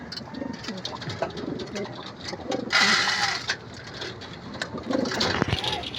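Pigeons coo close by at feeding time, and their soft, repeated calls keep going throughout. A brief hissing rustle and scattered small knocks from the flock cut in partway through.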